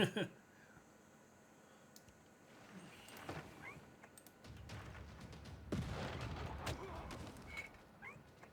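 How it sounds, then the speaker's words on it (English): Siege cannon fire in the strategy game Civilization VI, with several booming shots and impacts spread unevenly through the clip and a sharper, louder cluster of blasts near the end, heard alone. "I do like the siege cannon. It's very good. Keeps killing everything."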